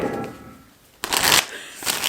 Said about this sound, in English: we will put the 7 of Diamonds back in and shuffle